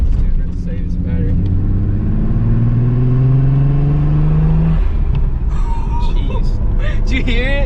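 A Mitsubishi 3000GT engine revs and drops through gear changes while driving, with rising harmonic pitch sweeps in the middle before it falls back, loud and close throughout, with people talking over it.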